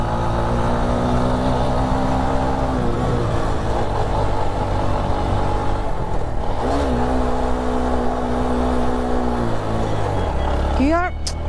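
A vehicle engine labouring uphill in second gear on a mountain road toward Keokeradong, droning steadily and loud throughout with shifting pitch as it strains, then a quick rev near the end.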